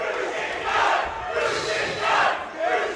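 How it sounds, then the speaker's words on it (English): A wrestling crowd cheers and roars wildly in surging waves, loud and dense, filling the whole arena. "The crowd are going wild for that"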